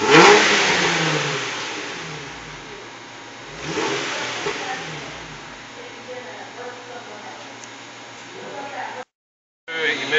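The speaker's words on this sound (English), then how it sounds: "I'm going to snap the throttle between 2 and 3" A car engine revs sharply twice during an exhaust smoke check, the throttle snapped and released, then settles back toward idle, close by with a steady exhaust rumble underneath.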